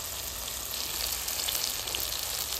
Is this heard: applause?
no